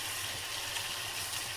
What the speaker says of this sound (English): You just run it under some water